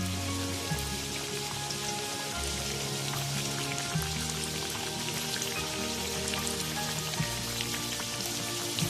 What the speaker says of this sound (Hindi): ऑयल हमारा गर्म हो गया था, इसमें मैंने वॉन्टॉन डाल दिए हैं